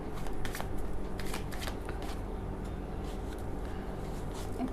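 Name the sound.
shuffling tarot cards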